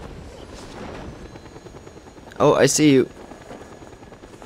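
A helicopter in the Just Cause 2 multiplayer game drones faintly and steadily in the background as it flies away, with a short burst of speech over it partway through.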